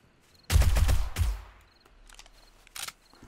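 Submachine gun fire in the video game 7 Days to Die, a short burst of loud, rapid shots followed by a quieter second burst and faint echoing clatter.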